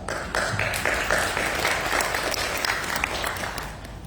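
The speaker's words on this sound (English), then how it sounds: "A heartfelt applause for all of them, please." Audience at a personal care technology summit in Jakarta breaks into sustained applause, many hands clapping steadily and loudly before gradually thinning out toward the end.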